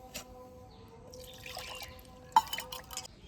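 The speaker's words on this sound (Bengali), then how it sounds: "তাই আমি এখানে কিছুটা জল দিয়ে দিচ্ছি।" Water poured into rice batter for chakli pitha in a rural kitchen, a soft trickle and drip into a bowl with a brief clink of the vessel, fairly quiet and close.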